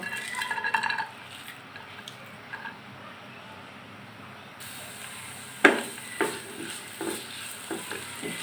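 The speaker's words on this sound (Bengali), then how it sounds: "এখন আমি দুইটা পেঁয়াজ ভেজে নেব।" Two onions fry in a pan for a small shrimp mash, a faint steady sizzle underneath sharp clinks and scrapes of a utensil against the pan.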